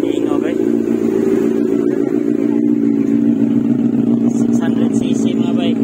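Benelli 600i four-cylinder 600cc motorcycle engine running with a steady, loud, throbbing drone, while voices talk over it throughout.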